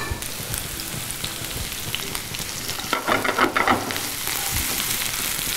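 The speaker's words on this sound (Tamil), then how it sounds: "எண்ணெய் சூடாயிருச்சு, இப்போ நம்ம இந்த நறுக்கின வெங்காயம் சேர்த்துக்கிறோம்" Chopped small onions and curry leaves hit hot oil in a pan, giving a steady, dense sizzle and crackle with a louder spitting burst partway through, close up and with no voices.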